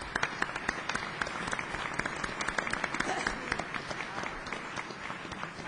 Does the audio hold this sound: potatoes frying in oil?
no